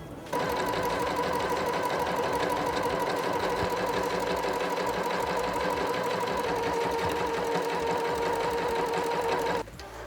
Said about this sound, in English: rows of stitches along this top edge of my fabric